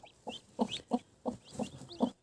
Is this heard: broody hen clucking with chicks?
yes